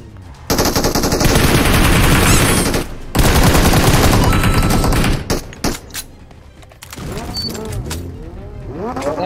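Rapid automatic gunfire in the mobile battle royale game PUBG Mobile, loud and close in two sustained bursts, then scattered single shots, clanks and mechanical noises as the firing thins out.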